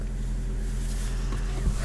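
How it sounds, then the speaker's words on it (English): 2018 Porsche Panamera 4S with factory exhaust giving a deep, steady low rumble while driving, heard from inside the cabin with wind and road noise, loud and continuous. "The exhaust on that from the factory is pretty crazy."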